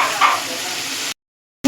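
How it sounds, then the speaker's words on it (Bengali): Chicken legs with jackfruit seeds stir-fried in oil with salt, sugar and meat masala, giving a steady loud sizzle with stirring that cuts off abruptly near the end. "দিয়ে এটাকে ভালো করে কষিয়ে নেব"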